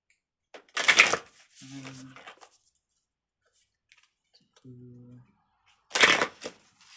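Tarot cards are riffled in two quick, crisp bursts separated by quiet, with faint tapping and handling noises in between.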